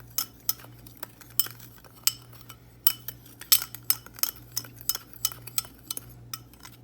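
A utensil stirs a dry mix of salt, paprika, onion powder, garlic powder, cumin and pepper in a bowl, giving a run of sharp, irregular clinks and taps over a low steady hum, close and with no voices.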